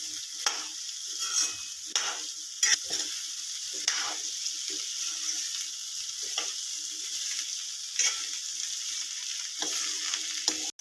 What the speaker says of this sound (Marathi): भेंडी टाकून घेते। मीडियम गॅसवर ही भाजी आपल्याला करून घ्यायची आहे।